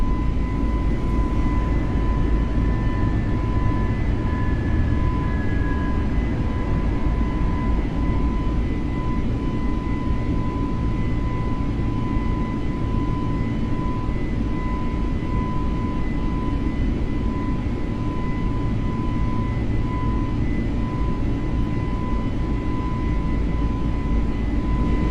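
Airbus A320 jet engines roar steadily at full takeoff thrust in Microsoft Flight Simulator, a loud, constant low rumble with a faint tonal whine, no voices over it.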